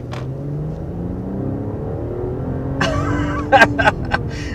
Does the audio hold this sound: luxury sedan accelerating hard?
yes